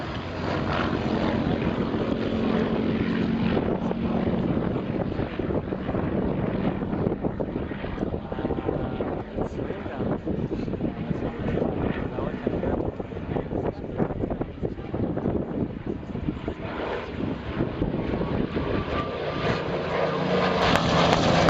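A Spitfire and a Messerschmitt 109 propeller fighter drone continuously during a mock air-combat display at an airshow, a steady distant engine roar with wind noise and no clear talking.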